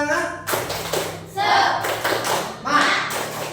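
A classroom of students does a rhythmic spirit clap, tepuk semangat, during a high-school lesson on zakat fitrah, with bursts of group clapping and shouting alternating with quieter moments, close and lively.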